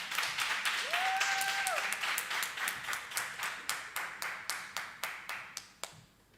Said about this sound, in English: Clap her again, clap her again.